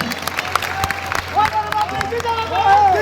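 Villagers gathered for a rally in a village clap in scattered, uneven bursts, with a voice calling out and crowd chatter mixed in over a low steady hum.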